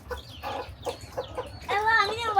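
A hen clucks close by in a series of short, soft calls that rise into a louder, drawn-out squawk at the end, with no one talking.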